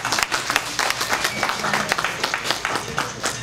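Audience clapping at a community gathering, a lively mix of close, uneven claps with crowd murmur underneath, fairly loud and sustained throughout.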